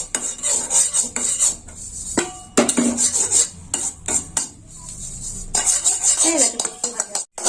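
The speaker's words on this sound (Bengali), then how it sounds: "ভাজা পোস্তটা কারির মধ্যে দিয়ে দিলাম। এবার ভালো করে মেখে নেব।" Fried poppy seeds being mixed into a red potato curry in a pan, with close, irregular scrapes and clinks of a metal spoon against the vessel, coming in short bursts separated by brief pauses.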